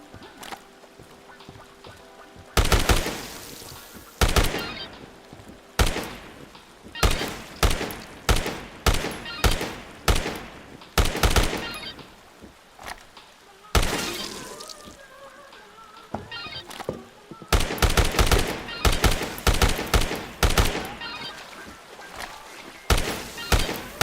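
Rifle fire in the video game Dead Rising, repeated sharp shots in bursts and singles across a long stretch, loud and close over a low game background with no speech.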